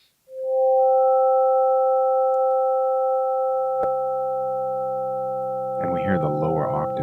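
Sustained sine-patch tones from a Reason Subtractor synthesizer hold steadily, with a lower octave fading in beneath them, then a brief wobbling modulated burst near the end, clear and alone.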